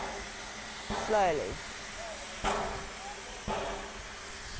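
A steam train pulls away slowly, sending out a steady hiss of escaping steam broken by three heavier chuffing bursts at spaced intervals, near and moderately loud, while a person speaks briefly.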